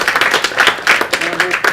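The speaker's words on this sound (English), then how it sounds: "And let's give ourselves a round of applause" A small breakfast networking audience claps in short, loose bursts of individual hand claps, close and fairly loud, with a voice speaking briefly partway through.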